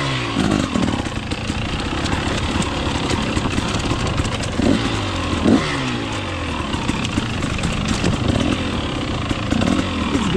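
Off-road motorcycle on a trail ride at McLean Creek, engine loud and close throughout, revving up and down steadily with no talk.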